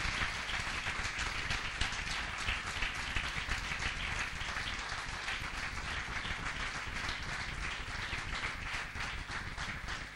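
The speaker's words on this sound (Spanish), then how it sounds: "Den un aplauso al Señor fuerte" A church congregation applauding during a sermon, a continuous even roar of many hands clapping, fairly distant and steady for the whole stretch.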